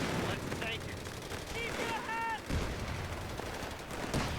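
Machine gun fire from a Company of Heroes 3 battle in Italy, a busy layer of shots and combat noise with a few whistling tones, running throughout at moderate level.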